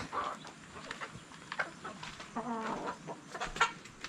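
Layer breeder chickens cluck and cackle in a coop, with scattered soft clucks and a longer rhythmic cackling run, fairly quiet and close.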